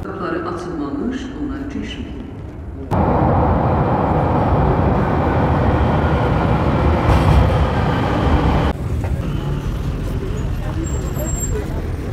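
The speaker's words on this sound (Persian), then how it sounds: "خب حالا بریم سوار مترو شیم" Metro train ride in Tabriz, with a loud broadband rumble of the moving carriage that rises sharply after a few seconds, holds steady, then eases to a lower hum near the end.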